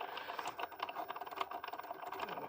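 A Cricut Joy cutting machine draws with a pen, making quiet rapid tapping and rattling clicks like light typing, close and continuous over a few seconds.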